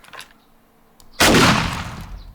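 A single loud shotgun blast with a tight choke mod in 7 Days to Die, a sharp close report followed by a long rumbling decay, preceded by quiet background ambience.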